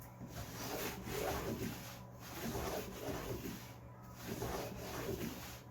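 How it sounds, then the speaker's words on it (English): The wooden underside of a table saw sled is sanded in slow, broad strokes, giving a soft rubbing swish that swells and fades in about three passes, close by and moderately quiet over a low steady hum. "A quick sanding underneath and plenty of paste wax"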